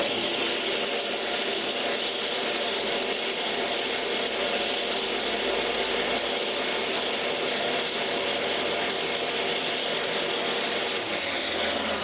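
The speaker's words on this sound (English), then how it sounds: "Now I'm going to go ahead and drill my hole for" A power drill bores a hanger hole into a turned wooden Christmas ornament in a woodturning shop, a steady dense whirring grind that holds unbroken and fairly loud throughout, with no one talking.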